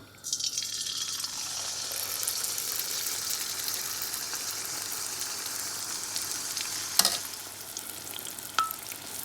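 Rounds of pitha batter dropped into hot sunflower oil on medium-high heat, giving a loud, continuous hissing sizzle that swells at the start and holds steady, broken by a couple of sharp clinks near the end, with no talk.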